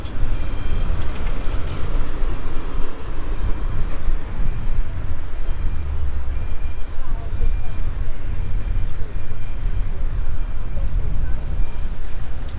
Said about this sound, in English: Nice old tram.